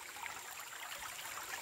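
A stream flows on a farm trek, its water making a faint, steady rushing and trickling wash throughout, with no voices over it.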